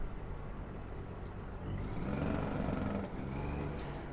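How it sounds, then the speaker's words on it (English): A heavy truck's engine brake rumbles low and steady in a driving game, swelling slightly midway as the truck slows, fairly quiet and alone. "That engine brake is kind of brutal."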